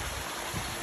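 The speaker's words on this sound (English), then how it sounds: "Water feature there." Brief, steady trickling and rushing of a backyard water feature, heard up close as a continuous wash of flowing water without any talking.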